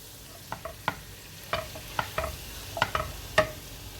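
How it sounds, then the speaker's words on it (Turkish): Spinach being sautéed in oil in a pan, a soft sizzle under irregular clacks and scrapes of a utensil stirring, close and fairly quiet. "Şöyle kavuruyoruz arkadaşlar."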